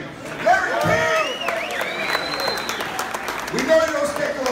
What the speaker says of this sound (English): Let's give a nice round of applause to Mr. Larry King.